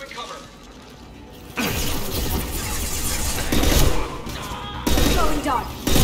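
Heavy gunfire in the video game Mass Effect 2 erupts into a dense, loud barrage of overlapping shots with clattering impacts, surging again near the end, while game voices talk over it.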